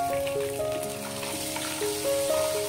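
Chopped onions and ginger garlic paste fry in a pan with a faint, steady sizzle, partly masked by a louder tonal hum that wavers in pitch through the short stretch.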